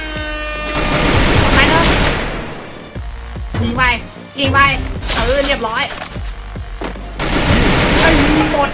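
Gunfire in the video game Free Fire, loud sustained bursts of rapid automatic shots with brief gaps between volleys, close and dense, with a voice talking underneath.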